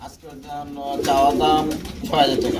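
Danish pigeons, a cock and a hen in a pair, coo in repeated low rolling phrases close by, with someone talking over them.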